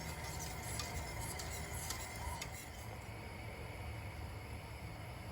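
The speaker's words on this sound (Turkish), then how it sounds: "kaynama noktasına gelene kadar sürekli karıştıralım ki topaklanmasın" Strawberry magnolia pudding stirred continuously in a pot on a stove's smallest burner, a quiet, steady scraping and swishing with faint light clinks of the utensil against the pot.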